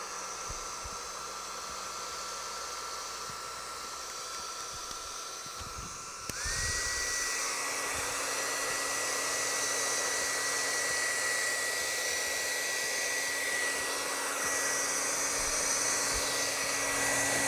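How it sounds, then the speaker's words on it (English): A hair dryer with a concentrator nozzle, blowing acrylic pour paint, switches on and blows with a loud, steady whine and rushing air, running continuously close by. "we're gonna use the concentrator to blow the paint around."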